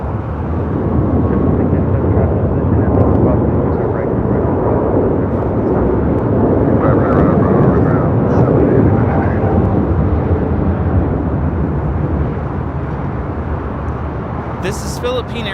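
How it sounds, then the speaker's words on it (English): Philippine Airlines Boeing 777-300ER jet taking off at a busy airport, a loud steady broadband engine roar holding throughout with a deep low rumble, with voices talking faintly over it. "This is Philippine Airlines 113 taking off to Manila on our 777-300ER."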